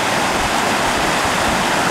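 Trout Creek rushes through its canyon as a loud, dense, unbroken roar of flowing water, close and steady throughout, with no voices.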